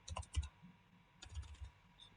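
Computer keyboard typing comes in two short bursts of quiet, rapid clicks separated by a pause, close and soft, with no talking.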